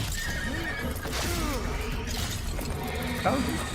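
A horse in the game Warframe's Duviri Paradox whinnies in a rising, quavering neigh, with a second shorter whinny near the end over steady game background noise and music.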